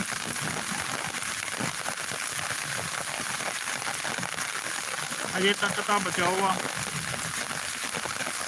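Steady broadband hiss of rain falling on surfaces, continuous throughout, with someone speaking briefly partway through.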